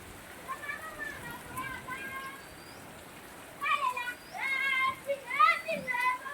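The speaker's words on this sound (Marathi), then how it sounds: "मजा करतात बघा पोरात पावसात पहिल्या पावसात" Children shouting and squealing as they play outdoors in the first rain of the season in rural Konkan, their high voices rising in bursts, louder toward the end, over a steady soft wash of rain.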